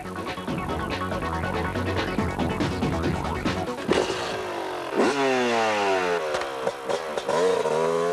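A motocross motorcycle engine revs hard and close at a freestyle motocross event, its pitch sweeping up and down repeatedly as the rider accelerates and eases off, with clattering mechanical noise throughout.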